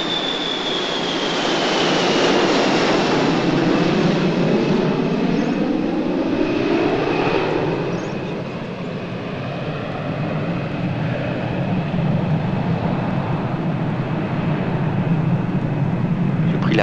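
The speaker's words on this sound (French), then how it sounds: "L'avion qui passe au-dessus de ta maison et qui m'a conduit sur le continent." An airplane passes over a house, a loud continuous engine roar with a slowly falling whine that fills the whole stretch, steady and close overhead.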